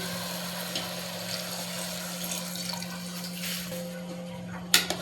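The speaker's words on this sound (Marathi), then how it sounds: "आता थोडं सगळं इथं पाणी टाकून घेते" Water pours and splashes into a pot of spicy chicken curry at a family party, a close watery trickle over a steady hum that ends with a sharp clank.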